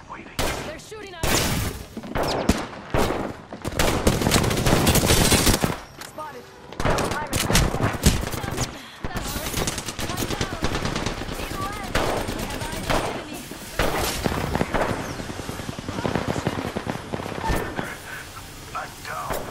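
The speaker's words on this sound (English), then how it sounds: "They're shooting us!" Heavy automatic gunfire in the Apex Legends video game rattles in repeated loud bursts and sprays, trading back and forth with short pauses, as players talk over the fight.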